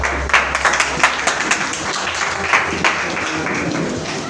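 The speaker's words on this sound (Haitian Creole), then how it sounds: "On applaudit l'église." A church congregation applauding at a wedding, a burst of many hands clapping in a reverberant hall, irregular and fairly loud, tapering off over a few seconds.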